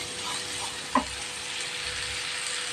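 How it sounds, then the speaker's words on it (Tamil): Gooseberries (amla) sautéing in a pan for thokku, a soft, steady sizzle with one brief scrape of a stirring spoon near the start, fairly quiet and close. "அந்த நெல்லிக்காய், இது எல்லாத்தையும் அதில் நம்ம சேர்த்து கொஞ்சம் நேரம் வதக்கி விடுவோம்."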